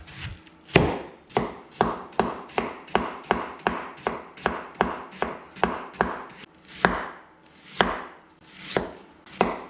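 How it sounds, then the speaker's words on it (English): Knife chopping cabbage for coleslaw on a board, steady rhythmic cuts, close and clear, about twenty crisp strokes, a few heavier pauses near the end, with no talking. "We get with the chopping."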